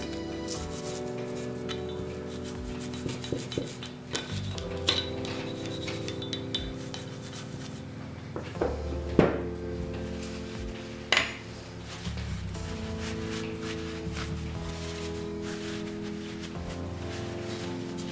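A brush scrubs around the firing pin area of a Glock 19 pistol, soft close rubbing and scraping strokes with small metallic clicks and taps in between, faint and irregular throughout.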